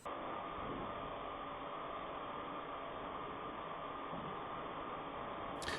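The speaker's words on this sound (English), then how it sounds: "the background hum is the warm air dryer. It's drying out the grain." A steady, unbroken drone of a warm air grain dryer fills the space, a constant broad hum with no variation and nothing else heard over it.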